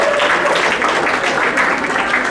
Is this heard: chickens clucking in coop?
no